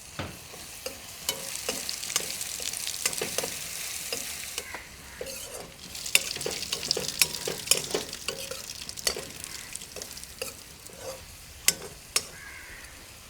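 Onions frying in a pan with crushed ginger, garlic and green chilli for a prawn biryani, a steady sizzle broken by frequent clattering stirs and scrapes of a spoon, fairly close, with no talk.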